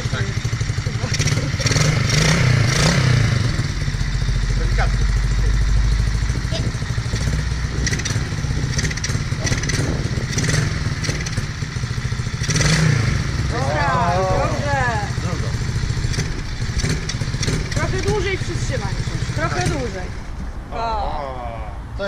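A new motorcycle, still cold, starts and runs with a steady engine rumble throughout, loud and close, while people talk over it.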